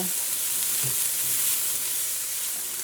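Chinese cabbage frying in a pan gives a loud, continuous sizzle and hiss, with a few soft stirring thumps underneath and no talking.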